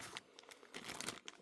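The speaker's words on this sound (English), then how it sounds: "plastic bag." A plastic bag crinkles softly up close at a model railroad workbench, a quick series of faint crackling rustles.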